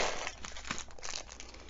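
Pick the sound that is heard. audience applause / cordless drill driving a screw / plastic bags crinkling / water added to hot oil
plastic bags crinkling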